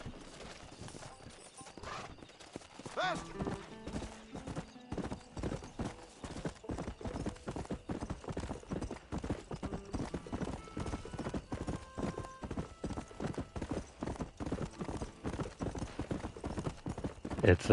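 Horse hooves clip-clopping in Red Dead Redemption on PS5: a continuous, rhythmic trot of hoofbeats that runs the whole length, close and steady, with a brief neigh possible early on.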